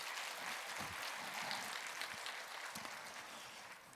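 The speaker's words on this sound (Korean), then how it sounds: "우리 성가대에게도 박수를 한번 해주시기를 바랍니다." A church congregation applauds its choir, a broad even wash of clapping that sounds soft and somewhat distant, sustained for the whole four seconds without speech.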